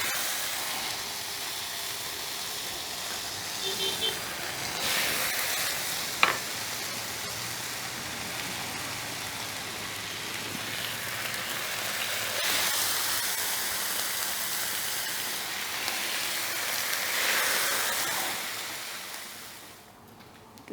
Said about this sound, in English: that bacon is getting about done